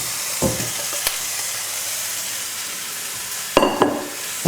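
Root vegetables go into a hot casserole pot for a spicy vegetable and lentil stew, giving a steady background sizzle broken by a few brief stirring clatters, louder toward the end.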